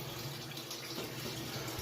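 Water pours steadily into a newly built pool pond, a continuous close splashing rush that stays even and unbroken throughout, with no talk.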